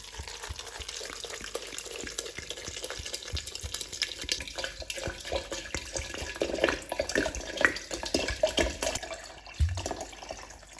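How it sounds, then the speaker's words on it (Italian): Soaked cashews rinsed under a running kitchen tap, with steady splashing water and occasional clatter and rustling of the nuts in a strainer, fairly close and continuous. "li scoliamo e li sciacquiamo bene sotto l'acqua"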